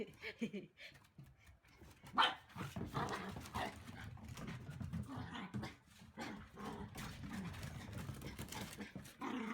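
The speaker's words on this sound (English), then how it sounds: "Look, there's a big dog." A big dog barks several times in bursts, fairly faint and mixed with rustling and background activity, with a person speaking intermittently.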